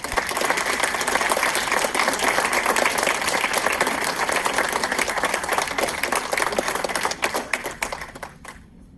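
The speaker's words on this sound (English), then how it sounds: "Please give a round of applause to the new Eagle Scouts." Loud, sustained applause at an Eagle Scout Court of Honor, many hands clapping in a dense roar that thins into a few last claps and stops near the end.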